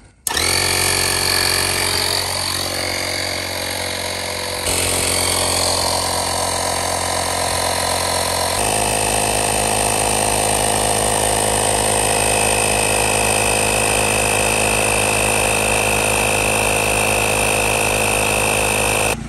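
A portable tyre inflator pumps up a punctured car tyre, its motor droning loud and continuous up close, with the pitch shifting a couple of times as the pressure builds.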